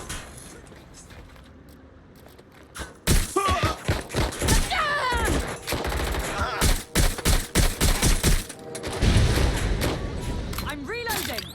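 Watch Dogs Legion gunfire: repeated rapid bursts of shots in several clusters, loud and close, mixed with game voices and effects.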